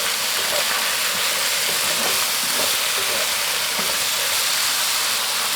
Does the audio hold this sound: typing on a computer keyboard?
no